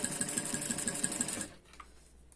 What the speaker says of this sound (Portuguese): Então, vamos costurar.